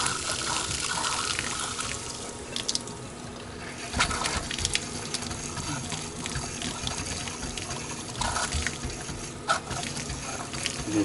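Water running through the hot water lines of a KZ 180 toyhauler travel trailer during de-winterizing, a continuous gushing, splashing flow from a faucet, close and steady with occasional sputters and no talking.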